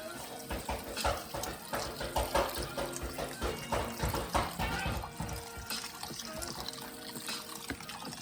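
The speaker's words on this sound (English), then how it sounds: "And hot water." Hot water pours steadily into a bowl while a vegan noodle soup with lemongrass is made, giving a continuous bubbling splash that drifts in intensity and thins toward the end.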